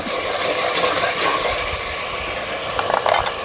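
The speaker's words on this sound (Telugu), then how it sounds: "ఇప్పుడు మసాలాలన్నీ బాగా ఫ్రై అయిపోయాయండి మటన్ అయితే వేసుకుందాం" Mutton dropped into fried spices in a pan, a loud dense sizzle and frying hiss that continues steadily, with some stirring scrapes toward the end.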